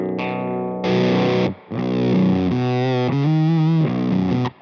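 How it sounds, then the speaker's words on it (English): An electric guitar through a Dan Drive fuzz pedal set to low gain plays several sustained, gritty, overdriven notes and chords close up, with a brief gap between phrases and no voices. "after an octave pedal, I like to have a big fuzz."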